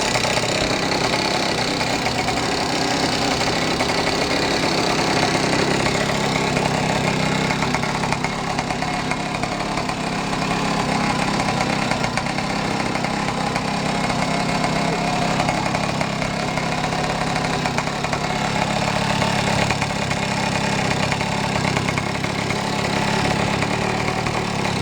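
A 49cc FS507 gas scooter engine idles steadily and continuously at close range, with a constant, unbroken running drone and no talking.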